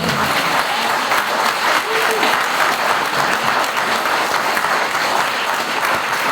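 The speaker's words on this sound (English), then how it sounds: "I'd like us all to give a round of applause" Sustained audience applause fills a large room at a languages school's 25th anniversary celebration, dense steady clapping from many people, loud and continuous throughout with faint voices mixed in.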